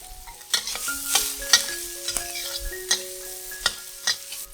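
Vegetables, including three-colour bell peppers, stir-fried with salt and pepper for a vegetarian tofu rice dish: a steady close sizzle broken by repeated sharp spatula clanks and scrapes against the pan, with no voices.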